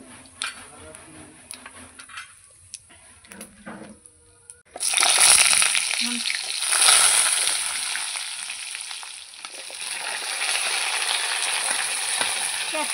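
Potatoes drop into hot oil already seasoned with cumin seeds and a bay leaf, bursting into a loud, sudden sizzle after a quiet stretch of faint clinks, then frying steadily and vigorously, close up.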